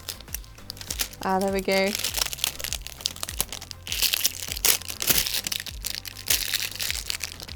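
Plastic film is peeled off the packaging of an ASUS RTX 3070 graphics card, a close, uneven run of crinkling and crackling with brief tearing, while someone speaks briefly.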